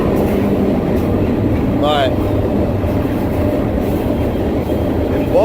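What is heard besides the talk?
train riding on rails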